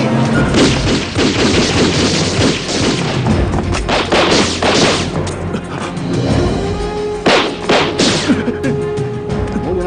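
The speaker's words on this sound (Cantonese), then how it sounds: "唔好亂開槍" Gunfire in a film fight scene, a dense run of loud booming shots and thuds in rapid succession, with a few sharper isolated cracks toward the end.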